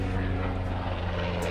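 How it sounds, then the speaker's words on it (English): Military helicopter passing low overhead on a Thursday morning, its heavy rotor thump and engine drone loud and continuous, with a faint voice underneath. "That's a helicopter."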